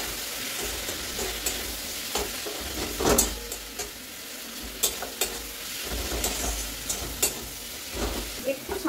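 Salt, cumin, coriander, chili and Kashmiri chili powder, sugar and turmeric are stirred into tomato frying in a pan: a steady close sizzle with repeated scraping strokes of the spoon against the pan.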